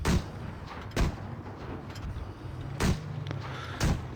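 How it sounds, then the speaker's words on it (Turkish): In World of Tanks Blitz, Ke-Ni Otsu tank cannon shots boom out as four heavy, evenly spaced blasts about a second apart, each with a deep thump and a short tail over a constant rumbling engine drone. "İki mermiyi boşuna sıktık."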